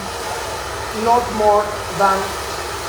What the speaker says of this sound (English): I want to use my hair dryer on hot but medium air.